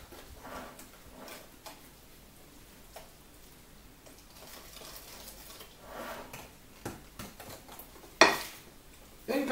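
Carrot cake batter stirred in a bowl, a spoon or whisk scraping and clinking softly in an irregular rhythm, faint and close, with a sharper clink near the end.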